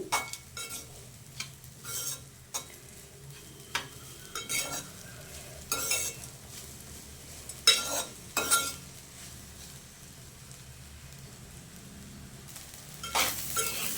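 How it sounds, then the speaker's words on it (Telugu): A spoon or spatula stirs leftover rice with grated raw mango in a hot pan for mango pulihora, giving a steady soft sizzle broken by repeated sharp scrapes and clinks of metal on the pan, close and fairly quiet. "ఇది బాగా వేపుకోవాలా."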